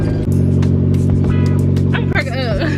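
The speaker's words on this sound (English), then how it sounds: "Y'all gonna listen to how my car about to sound." A car engine in need of an oil change runs with a steady low droning hum and a few brief revs, while people talk loudly over it.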